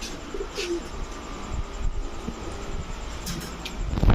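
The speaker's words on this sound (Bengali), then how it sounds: "খুলনার নাকটানা একটা মাদি কবুতর" A female Khulna Naktana pigeon coos softly, with low cooing and a few faint chirps over steady background noise and light wind, fairly close.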